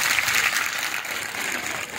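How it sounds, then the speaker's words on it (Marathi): An audience claps together to approve a resolution against dowry at a felicitation ceremony in Paranda. The dense, steady applause lasts the whole stretch at even loudness, with no voices. "टाळ्या वाजवून ठराव मंजूर."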